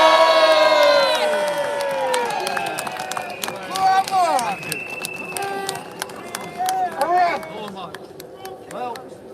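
Outdoor rally crowd cheering and shouting loudly as a speaker takes the stage, a dense wash of voices with whistles and calls swelling and fading, speech mixed into the din.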